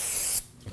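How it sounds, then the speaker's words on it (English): A short burst of brake parts cleaner aerosol spray hisses onto a Ram 2500 brake rotor for a moment, then cuts off, leaving quiet with a faint thump after. "We're going to use some brake parts cleaner and a clean rag and spray our rotor down."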